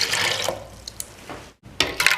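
Half a cup of water poured into a blender jar for mint lassi, a close, splashy trickling pour in two short bursts separated by a brief pause.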